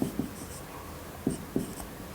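Chalk or marker writing on a board during a chemistry lecture on naming aromatic alcohols, a few short scratchy strokes in quick succession against a quiet room.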